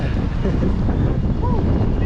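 Strong wind buffets the microphone at sea aboard a small fishing boat, a loud continuous roar with gusting rumble, while a person talks underneath.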